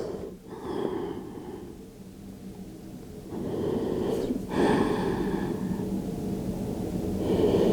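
Deep breaths during a gentle yoga flow: a soft breath early, then a longer, stronger exhale building toward the end, close and quiet with no talking.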